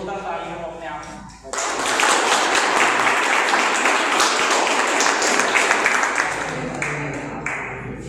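A speaker talks briefly, then an audience bursts into loud, dense applause that holds for several seconds before thinning out.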